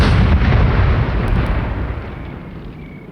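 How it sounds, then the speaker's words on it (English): A movie explosion as hobgoblins blow up, a loud deep rumbling blast that starts at full force and slowly fades over about three seconds with no voices. "all the hobgoblins just go back where they came from and explode."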